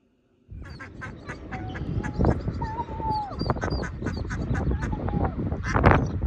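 Several ducks quack outdoors at a pond, including a mother duck with her young, in a busy overlapping chorus of close, fairly loud calls that starts abruptly and continues steadily.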